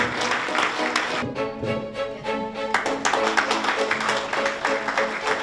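Applause breaks out at the Washington State Korean Chamber of Commerce's 2019 general meeting for a candidate confirmed elected unopposed, a steady crowd clatter lasting several seconds with tonal sound and a voice mixed in.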